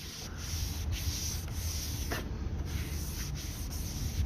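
Brake rotors being sanded to strip off grime during a front brake replacement on a Mitsubishi Evo X: close, continuous abrasive scratching and rubbing in rapid back-and-forth strokes, fairly quiet, with no talking.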